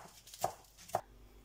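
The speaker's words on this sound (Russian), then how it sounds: "Листовой салат зеленый также нарежу не крупно." Knife chopping green leaf lettuce on a board, two distinct sharp chops about half a second apart, close and fairly quiet.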